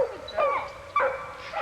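A pit bull mother who has just had pups barks and whimpers close by, giving two or three short yelping barks that bend into whiny cries within a couple of seconds.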